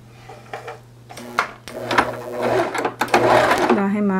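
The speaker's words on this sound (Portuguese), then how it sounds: "Daí, você vai costurar ele aqui." A sewing machine stitches the edge of a pleated fabric face mask, running in short bursts of mechanical whirring, close and moderately loud, with someone talking over it throughout.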